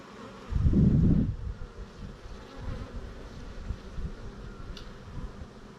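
Bees hum around an open hive during a hive inspection, with a loud close buzz at the start as one passes near, then a lower droning hum with wind rumble.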